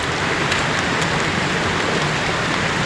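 Steady rain falls outdoors on the way to school, a dense continuous hiss of drops on surfaces, loud and unbroken with no talking.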